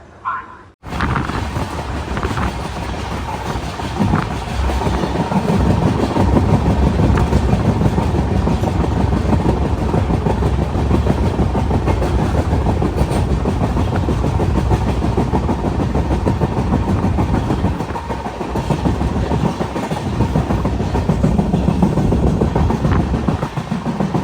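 A Kacheguda Murdeshwar Express rolls into Mookambika Road Byndoor railway station, a steady loud rumble with clickety-clack of wheels on rail joints, heard from on board and continuous throughout without speech.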